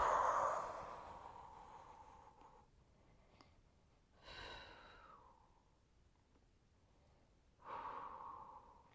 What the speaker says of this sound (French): Donc j'inspire, pardon, et j'expire.